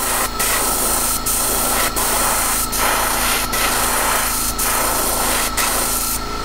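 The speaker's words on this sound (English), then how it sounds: "this sprays on thick, but a lot of times it takes two coats" A spray paint can hisses steadily and loudly at close range as a thick coat goes onto a fishing lure, with faint, regular clicks under the continuous spray.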